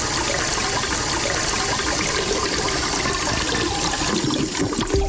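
Loud toilet flush, a continuous rushing and gurgling of water heard up close and alone, holding steady for several seconds with a slight swirl near the end.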